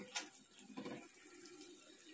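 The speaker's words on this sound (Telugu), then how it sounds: "ఇప్పుడు మనం దీంట్లోకి వాటర్ యాడ్ చేసుకుందాము" Water pours steadily into a pot of fried biryani masala for a large rice batch, a faint continuous splashing with no talk.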